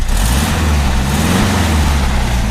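The air-cooled engine of a 1973 Volkswagen Square Back runs loud and close, its rough throbbing drone swelling slightly as the throttle is blipped and then settling, with no voices over it.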